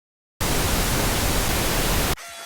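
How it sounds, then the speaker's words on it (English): Steady pink noise from a noise generator plugin loaded in a mixing session, a loud, even broadband hiss that starts abruptly and runs unbroken for almost two seconds before cutting off sharply. "I'm going to load a pink noise generator to see if they suggest any changes first with Bloom."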